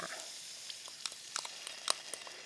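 Dried squid strips stir-fry in oil with soy sauce seasoning, giving a steady bright sizzle with scattered small pops and light stirring clicks, close and continuous.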